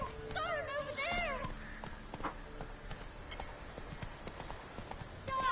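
Hooves of the horse Roach clip-clopping at speed in The Witcher 3, a steady rhythmic patter under game voices, music and shouting that partly mask it.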